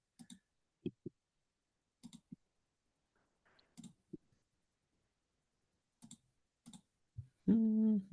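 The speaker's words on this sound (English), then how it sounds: "I hear you clicking" Sparse clicks from a computer mouse or keyboard sound up close in a quiet room, arriving singly and in short pairs at irregular gaps, followed by a brief burst of a voice at the end.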